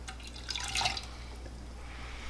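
Used tea water is tipped out of a small teaware vessel in a tea ceremony, a brief trickling pour and dripping splash heard close and quiet over a low hum.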